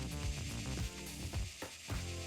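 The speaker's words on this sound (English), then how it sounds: "I hear the sizzling." Steady crackling sizzle in the video game Scrap Mechanic, dense and continuous with a few low thumps beneath, at a moderate level throughout.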